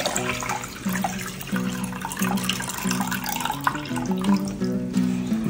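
Popcorn corn kernels are rinsed under a running tap, a steady close stream of splashing water with tonal gurgles and a few louder surges, no talking.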